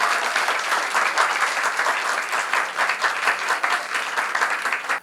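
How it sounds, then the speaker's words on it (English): A crowd at a film talk gives sustained, dense applause, loud and continuous for several seconds before cutting off abruptly. "So can we have a big round of applause for Riley?"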